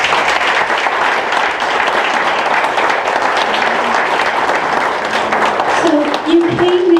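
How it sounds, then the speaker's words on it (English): Steady, dense audience applause at a choral arts event fills the whole stretch, loud and continuous, with a faint voice rising over the clapping near the end. "Let's give them a round of applause."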